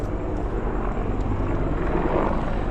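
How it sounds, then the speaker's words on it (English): A helicopter passes overhead near an RV park and cabins. It makes a steady, moderately loud rotor drone that holds evenly throughout with no other sounds. "There's a helicopter right up there flying."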